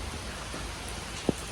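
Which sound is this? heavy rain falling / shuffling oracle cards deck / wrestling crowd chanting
heavy rain falling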